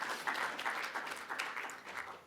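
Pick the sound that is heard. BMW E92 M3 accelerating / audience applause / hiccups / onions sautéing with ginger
audience applause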